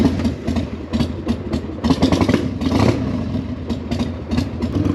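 A used cruiser motorcycle's engine rumbles steadily on a test ride, with a continuous low drone and wind noise, some brief louder surges, and no talking.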